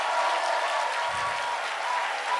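A church congregation breaks into sustained, loud applause, dense clapping from many hands holding steady without a break.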